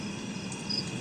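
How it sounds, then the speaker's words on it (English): Cricket chirping outdoors at night, a faint high thin chirp barely above steady background noise, with no talk. "That's a cricket chirp."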